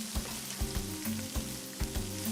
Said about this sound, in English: turn the ham slices over.